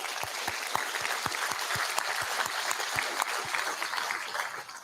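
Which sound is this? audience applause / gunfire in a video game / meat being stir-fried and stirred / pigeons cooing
audience applause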